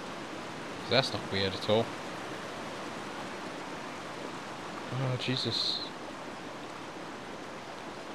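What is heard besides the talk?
waterfall in the video game The Sims 3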